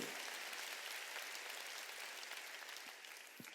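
A church congregation at a Sunday service claps together in a sustained, dense round of applause, steady and fairly faint as if heard from a distance, with no speech over it.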